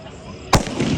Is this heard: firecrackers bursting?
yes